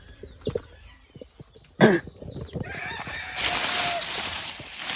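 Native country chickens cluck in short scattered calls outdoors, with one louder burst near the middle, while a hissing rustle of background noise swells toward the end.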